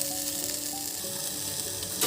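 Onion and tomato frying in a kadai with a little salt until lightly charred: a constant, close sizzle with soft crackling, loud and steady, with a brief stir near the end.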